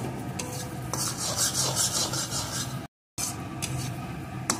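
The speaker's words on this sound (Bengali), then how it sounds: "আবারও এইভাবে কিছুক্ষণ নাড়িয়ে নেব" Spoon scraping and stirring spicy bean bhorta in a pan, soft rhythmic rubbing strokes close by with a light sizzle, briefly cut by a moment of silence.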